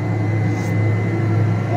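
A steady, loud, droning rotor and engine hum from a helicopter flying in a flight simulator game continues evenly throughout, with no talk.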